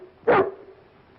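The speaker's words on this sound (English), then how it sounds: "Throw the dog out, Charlie." A dog in a 1936 film gives a single short, sharp bark, fairly close, surrounded by near silence.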